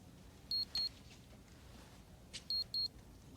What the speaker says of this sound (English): You don't hear a beeping sound?